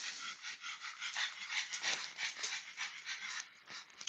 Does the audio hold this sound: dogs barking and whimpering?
yes